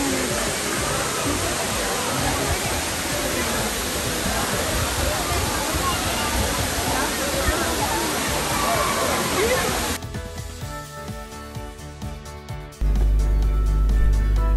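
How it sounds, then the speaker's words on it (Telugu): Talakona waterfall in a forest, a loud, close, steady roar of falling water that drops away abruptly near the end. "ఈ వాటర్ ఫాల్స్ని చూడటానికి తిరుపతికి వచ్చిన వాళ్ళే కాకుండా"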